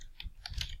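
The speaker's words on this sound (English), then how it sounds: "I'm just going to start typing" A few quick keystrokes on a computer keyboard, soft and close, tapping in an uneven rhythm while typing text into a Google Slides presentation.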